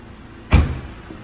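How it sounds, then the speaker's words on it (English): Bonnet release on a BMW 420i M Sport pulled to pop the bonnet lid: a single sharp, close mechanical thunk with a brief rattling decay, otherwise quiet. "So 2 pulls will open up the bonnet lid."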